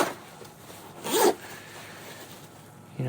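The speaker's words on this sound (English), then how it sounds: "they're coil type zippers, but they're thick, so like they're not gonna fuck up." A thick coil zipper on a USMC FILBE assault pack gives one short, close, raspy pull, loud against an otherwise quiet room.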